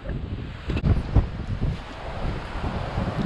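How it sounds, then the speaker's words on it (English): Strong gusty wind rumbles and buffets the microphone out on the ice during a fishing trip in freezing cold, with loud low roaring surges and no speech. "There's so much wind, guys."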